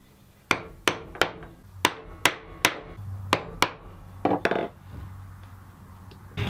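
A hammer drives a punch through couch leather to make stitch holes along an 1/8 inch line for a bifold wallet: about nine sharp, evenly spaced strikes, close and loud, then a quicker cluster of taps, with no voices.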